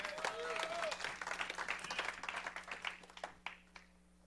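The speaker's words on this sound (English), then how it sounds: "I want you to give the Lord a hand clap this morning." A church congregation at a Sunday service claps in response to the preacher, a quiet, scattered patter of hands that builds and then thins out toward the end, with a faint steady hum underneath.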